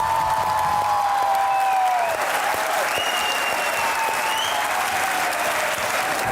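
A studio audience at a comedy talk show gives guest anchor Muneeb Farooq steady, loud applause, a continuous wash of clapping that holds throughout over a faint musical tone.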